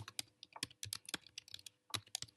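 Rapid typing on a computer keyboard during a word-processing task: a quick, uneven run of close, crisp key clicks with short pauses, no voices.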